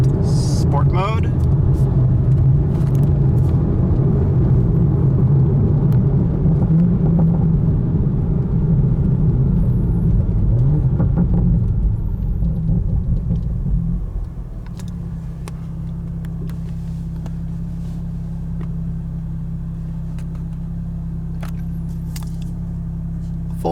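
2020 Toyota Supra with a Borla ATAK exhaust at full throttle in sport mode, a loud, deep engine roar that climbs and then settles into a steady lower drone, with speech heard over it.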